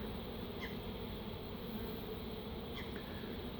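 A steady, dense buzz of honeybees fills the air close by as a swarm flies around and walks into a hive in a garden, with no voices.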